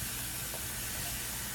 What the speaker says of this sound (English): I'm just going to add a little bit more water to it